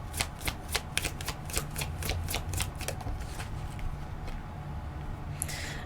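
Tarot cards being shuffled by hand, a rapid series of crisp riffling slaps in the first half, then softer card sliding and handling sounds, with no speech.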